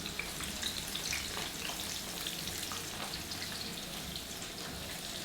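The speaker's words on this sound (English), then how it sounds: "So we have the pot here already hot. And we will put that to fry." Fish fillet frying in a hot pot for a Garifuna dish in Dangriga, Belize, giving a steady, dense sizzle that holds loud and even throughout, with no talking.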